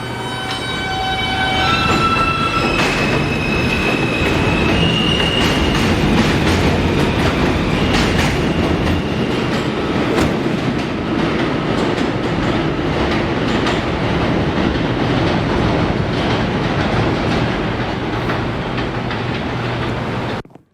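A Queens-bound J local subway train in the SubwayCraft video game pulls out of the station with a continuous rumble and rhythmic wheel clatter, loud and steady until an abrupt stop.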